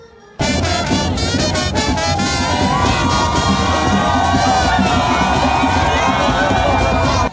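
Loud, dense crowd of cheering and shouting people, with children's voices among them, greeting French President Emmanuel Macron during a walkabout in Cameroon; the roar bursts in abruptly and stays constant and close throughout.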